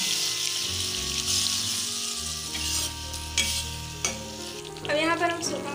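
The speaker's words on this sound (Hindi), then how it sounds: "दही को अच्छा से फेंट कर फिर डाल देते हैं लो फ्लेम में" Whisked yogurt is stirred into onions sizzling on a low flame for a soybean curry, a close spoon scraping and stirring through a soft, steady frying sizzle with a few wet clinks.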